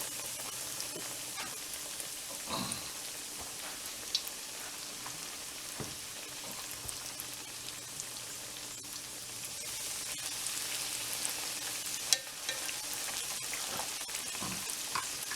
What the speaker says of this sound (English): our oil is preheated and our pork cutlets are done. And we're going to go ahead and pan fry these.